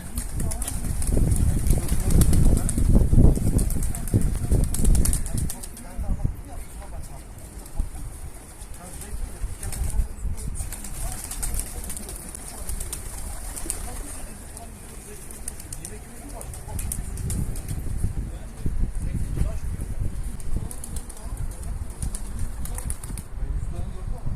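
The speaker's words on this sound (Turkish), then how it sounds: "kuşları dışarı çıkardı" Pigeons flying over a rooftop, with bursts of wing flapping and fluttering that are loudest early on and return later, mixed with faint bird sounds outdoors, while someone talks throughout.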